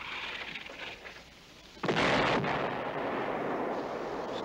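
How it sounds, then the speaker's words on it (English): Artillery searching fire in a wartime combat drama: a quiet rumbling background, then a sudden heavy boom that swells into a loud, sustained roaring blast and rumble, with no voices. "Sounds like searching fire."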